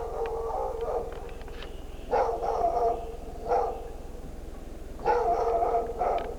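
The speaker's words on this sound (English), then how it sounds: "Annoying fat ugly dog." A small dog indoors barks in short bursts, with several yappy barks clustered together and pauses between them, close and fairly loud over a steady low hum.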